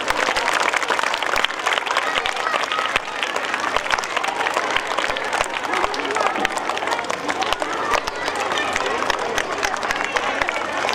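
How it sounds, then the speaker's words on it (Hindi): Continuous audience applause at a school annual gathering, a steady wash of many hands clapping throughout with faint crowd murmur mixed in. "तालियां बजती रहनी चाहिए।"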